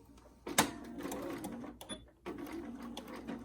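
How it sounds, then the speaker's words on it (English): A sewing machine stitches back and forth across a stressed seam on a pleated face mask with a top pocket, producing short close whirring bursts and a sharp clack near the start, with a brief pause midway. "I'm going to stitch back and forth a couple of times here because there'll be some tension on that part right there."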